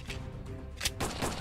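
Gunshots in a Grand Theft Auto video game fire as a quick run of sharp cracks, close and fairly loud, over a busy game background.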